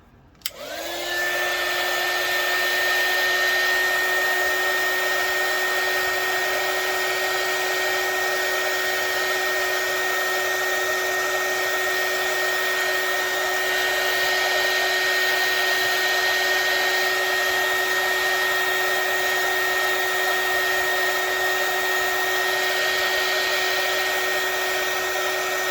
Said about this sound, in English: Now I need my hot air gun